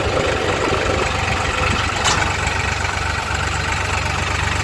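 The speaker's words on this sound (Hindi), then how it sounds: "अपनी गाड़ी जो है जा रही है आगे आगे और अपनी ट्रैक्टर जो है पीछे पीछे जा रही है।" A combine harvester and tractor, a Kartar 4000 and New Holland 3630, drive through a wheat field, their diesel engines droning loud and steady at close range with a brief sharp clatter partway through.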